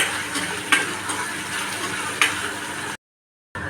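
Green chilies and curry leaves sizzle loudly in hot oil, with a couple of sharp spatula scrapes over a steady crackling hiss before a brief silent break.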